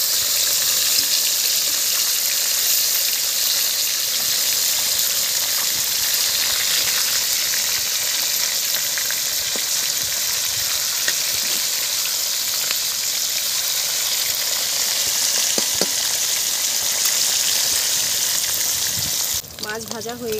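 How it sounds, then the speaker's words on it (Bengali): Four large pieces of snakehead fish, from a fish of about 2 kg, fry packed in a wok of oil, making a loud, continuous sizzling hiss for the whole stretch with scattered small spatters. "মাছ ভাজা হয়ে গেছে, তুলে নেব।"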